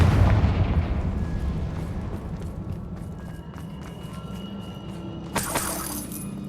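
A Confringo blasting spell bursts in Hogwarts Legacy, opening with a heavy booming blast that rumbles and fades over several seconds, followed by a sharp crackling burst near the end.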